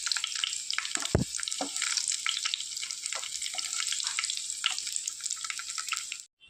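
Cashews and raisins frying in hot oil, a steady close crackling sizzle with scattered pops and bubbling that runs evenly and cuts off at the end.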